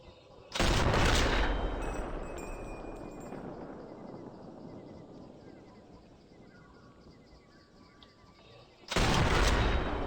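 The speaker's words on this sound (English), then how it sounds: "I'll just pull off another shot while I've got a chance." Two loud, sharp sniper rifle shots in the Sniper Elite 4 video game, each a sudden blast followed by a long echoing decay into quiet ambience, spaced several seconds apart.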